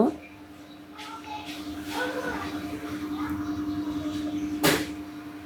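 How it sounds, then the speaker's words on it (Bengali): A lid set onto a pot of beef tehari with fried potatoes, ending in one sharp close clack after quieter shuffling and a faint background voice. "এখন কিছুটা সময় আবার ঢেকে রাখব"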